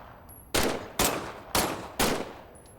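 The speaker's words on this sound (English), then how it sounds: "why don't you test fire your weapon?" Four sharp gunshots from a test-fired weapon in the video game Medal of Honor: Above and Beyond, evenly spaced about half a second apart, loud and close with short decaying tails, alone over faint background hum.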